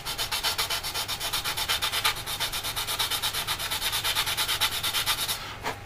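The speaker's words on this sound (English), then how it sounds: "if we just get our sanding stick, we can square it up just a little bit" A sanding stick rubs rapidly back and forth across a small plastic part from a 1/48 Italeri Chinook model kit, a steady rhythmic scratching of short close strokes with no talk.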